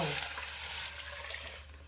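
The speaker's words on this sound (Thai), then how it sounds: "ให้เราเท น้ำลงไปเลยนะคะน้ำสะอาดของเรา" Clean water pours and splashes steadily into a cooking pot of pork belly for a moment, close by and fairly quiet.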